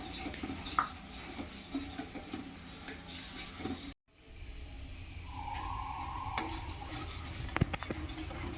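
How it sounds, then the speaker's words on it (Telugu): Almond milk mixed with sugar being stirred in a pot until the sugar dissolves, giving soft scraping and clinking against the vessel, broken by a brief silent gap and a steady low hum afterward. "పంచదార కరిగేంత వరకు కలపండి"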